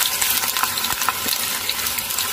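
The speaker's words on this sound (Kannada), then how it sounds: "ನೋಡಿ, ಒಗ್ಗರಣೆ ಫುಲ್ ಆಯಿತು" A tempering of curry leaves and whole dried red chillies sputters loudly in hot oil, a close, dense crackle with rapid spitting bursts throughout.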